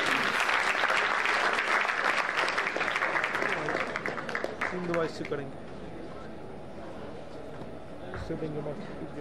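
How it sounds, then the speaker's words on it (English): Loud applause from a crowd fills the room, then gradually thins out to scattered claps and quieter background noise. "We need to have a round of applause as our debaters get on stage."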